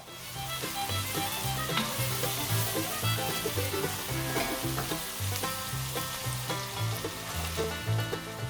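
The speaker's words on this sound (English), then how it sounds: "Now we add the finely chopped celery stick" Finely chopped celery and carrot frying in a pan with oil, a loud, steady sizzle broken by rhythmic scraping strokes from a utensil stirring the vegetables.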